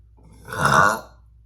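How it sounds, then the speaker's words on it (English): A single short, close burp rises and fades in about half a second, alone against silence. "Oh, I thought I was gonna burp."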